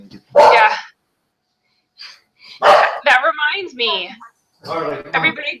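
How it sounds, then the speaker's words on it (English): Dogs bark in sharp bursts indoors during an online business screen-sharing presentation, loud and close, mixed with a person speaking between and over the barks. "Excuse the dogs."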